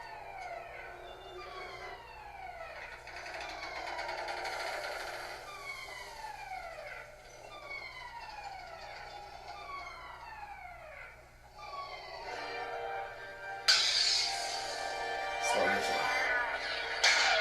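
A Rogue Vader sound-font lightsaber recreating the hallway scene hums steadily while sweeping swings repeat in a rhythmic series, building to louder clashes near the end.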